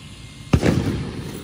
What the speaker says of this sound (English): they fired off fireworks